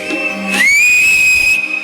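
Someone whistles a loud, piercing sustained note that slides up and then holds steady for about a second, close by on a stage with crowd noise underneath.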